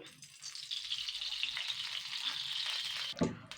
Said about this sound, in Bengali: কড়াইটা গরম হয়ে গেছে এবার আমি তেল দিয়ে দিচ্ছি